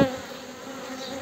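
Honeybees buzzing at a hive during queen introduction, a steady dense drone for just over a second that starts with a sharp knock, close and fairly loud with no voices.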